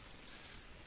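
Keys jangling in a horror video game, a brief faint bright metallic rattle in two small bursts, close and otherwise quiet.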